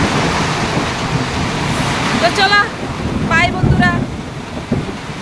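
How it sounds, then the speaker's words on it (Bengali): Cold wind gusts across an outdoor spot in a rainy evening, a constant rushing noise buffeting the microphone, with brief speech breaking through midway. "হাওয়া দিচ্ছে, কি ঠান্ডা হাওয়া দিচ্ছে"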